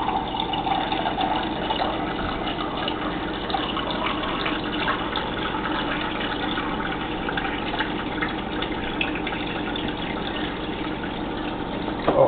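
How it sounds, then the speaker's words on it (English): Water runs steadily into a cup from a tap or dispenser in a kitchen, a continuous close hiss and gurgle lasting about twelve seconds with no talk. "I simply get myself a cup of water."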